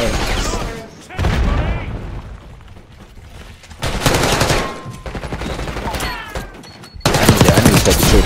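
Heavy automatic gunfire and booming blasts in Call of Duty Black Ops 6, coming in loud dense bursts with lulls between, with voices talking over parts of it.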